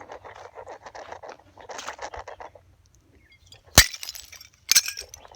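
Glass bottle smashed outdoors during a field trip in southern Alabama: after rustling and footsteps, two sharp, bright shattering cracks ring out about a second apart, the second followed by tinkling debris.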